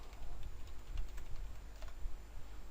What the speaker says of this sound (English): For this, let's say I'll just type something.